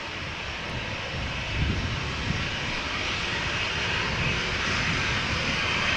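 A jet aircraft taxiing onto the runway at Amsterdam Schiphol Airport gives off a steady, moderately loud engine roar and hiss that holds evenly throughout with slight swells, no voices.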